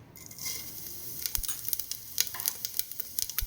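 Cumin seeds hit hot oil in a pan for white pulao, giving a bright hiss with crackly pops that quicken and scatter after the first second, close and alone with no talk.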